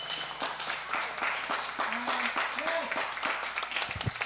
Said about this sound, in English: Let's give Jesus and all of us, but especially Jesus on this day, who is crowned King of Kings, a big round of applause